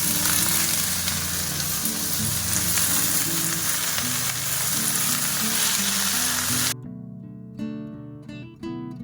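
Leafy greens hit a pan of hot oil and fried onions, giving a loud, dense sizzle that runs steadily for several seconds before dropping away suddenly near the end, leaving fainter crackles and clinks.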